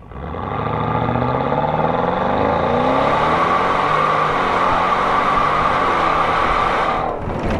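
A Porsche Cayenne Turbo engine revs hard while the SUV slides off-road on dirt, a loud close roar rising and falling through gear changes before easing off at the end, no voices.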